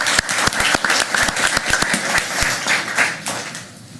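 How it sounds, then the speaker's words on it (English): An audience at a county Board of Commissioners meeting honoring Purple Heart recipients breaks into steady, dense applause that fills the room, with a few voices mixed in before the clapping thins out near the end. "Well, please give some applause."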